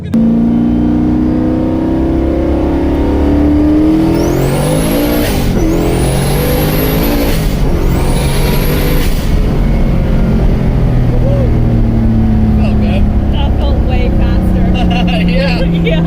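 A turbocharged Mazda Miata running nitrous on a dyno gives a loud, steady engine drone throughout, with several whistling rising sweeps in the middle stretch and voices talking over it.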